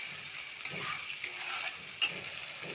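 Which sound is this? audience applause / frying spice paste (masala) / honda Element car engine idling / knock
frying spice paste (masala)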